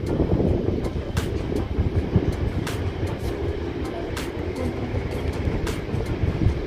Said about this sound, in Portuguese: Abortou a decolagem.